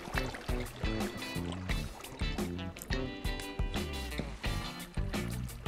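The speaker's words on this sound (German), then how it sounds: "Das Wasser ballert mir hier die Ohren weg." Loud flowing and splashing water in Minecraft near an ocean monument, a constant churning wash with recurring low sloshing pulses and bubbly surges that fill the whole stretch, no voices.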